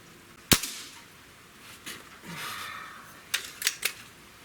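A Diana RWS 34P Pro Compact air pistol fires one sharp, loud crack early on, followed by fainter mechanical clicks and a cluster of small snaps toward the end.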